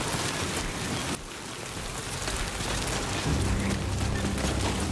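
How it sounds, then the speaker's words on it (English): Steady, dense rain pours in the video game Death Stranding 2, a loud continuous hiss that dips briefly, then swells again with a low rumbling undertone. "I think it's raining."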